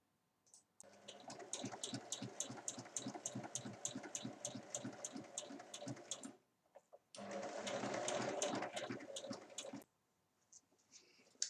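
A sewing machine stitching the seam all around a rectangular fabric basket with two handles, a close rapid rhythmic clatter in two long runs separated by a short pause.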